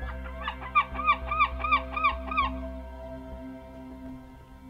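Eider duck calling, with a short run of about six rhythmic honking quacks close by, then a quieter stretch of low background.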